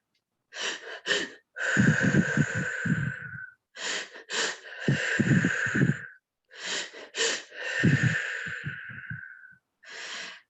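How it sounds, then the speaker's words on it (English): Forceful, rhythmic breathing exercise: several rapid bursts of sharp, loud breaths in quick clusters, with longer drawn-out exhalations in between, close and alone with no talking. "And the breathing would be like this."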